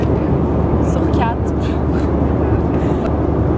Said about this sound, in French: On est dans notre premier avion